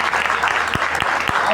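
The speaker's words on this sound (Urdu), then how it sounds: "تالیاں بجا سکتی ہیں اس بات کے لیے" Audience applause breaks out during an evangelistic church sermon, a loud sustained burst of many clapping hands with a few sharper claps standing out, close and filling the whole moment.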